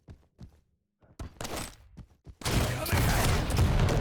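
Sparse single shots and thuds in a video game duel give way to a loud, sustained burst of heavy machine gun fire that runs to the end.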